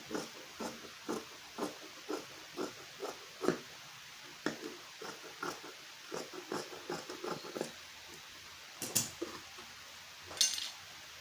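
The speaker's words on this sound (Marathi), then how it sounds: "तर आता आपण ह्याचं कटिंग करून घेऊयात" Scissors snip through fabric while a V-neck is being cut, a steady run of short crisp clicks spaced roughly evenly, quiet and close with no talk over them.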